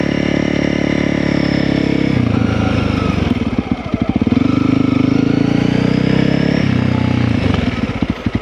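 Honda CRF300L motorcycle with a Stage 1 ECU, loud and close as it rides at low speed, the engine note rising and falling with throttle changes and braking, steady and continuous with no talking.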